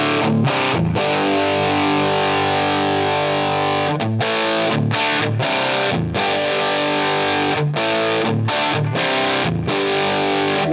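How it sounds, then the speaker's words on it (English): Distorted electric guitar played through a Line 6 Helix modeler using the 409 microphone model, with the lows rolled off by the distance setting; loud, sustained chords broken by short rhythmic gaps, no voice. "So let's hear that on the 409."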